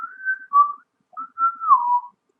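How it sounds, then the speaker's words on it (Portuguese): A person whistling a short tune alone, a few clear melodic phrases with a brief pause between them, close and clean. "Quem passa assobiando"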